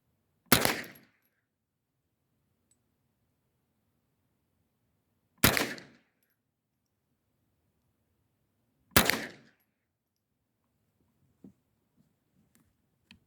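Three loud, sharp gunshots ring out one at a time with pauses of several seconds between them, fired while testing a cheap red dot sight, followed by faint handling clicks in otherwise quiet surroundings.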